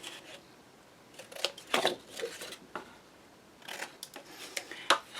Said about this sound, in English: we're going to cut at an angle from the score